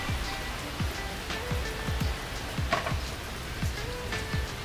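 Steady rain falls throughout on a Rusi Sigma 250 motorcycle being worked on for a clutch hub replacement, a dense even patter with a few louder drips landing near, no voices.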